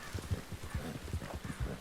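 Horse hooves clip-clop in a steady trotting rhythm in the Red Dead Redemption 2 video game, close and continuous over a soft background bed with no speech.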